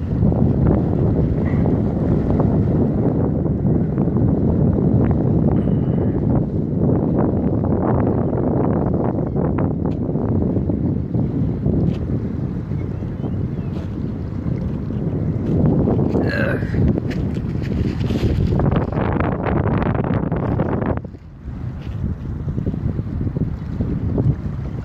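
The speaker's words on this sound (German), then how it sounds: "Mein Gott, ist das windig hier." Strong wind buffets the microphone at the Düsseldorf riverside, a loud continuous low roar with rolling gusts lasting the whole time, briefly easing near the end, with no talk.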